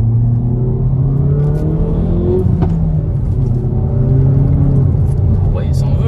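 A Hyundai i30N hot hatch with 275 hp accelerating hard, a steady loud engine drone rising through the gears from inside the cabin, with a brief shift break midway and people talking over it.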